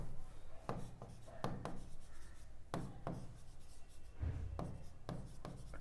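Chalk or pen strokes while writing out the solution to a Class 10 quadratic equations problem: short, quick scratching strokes in irregular bursts, close and fairly quiet, with no speech.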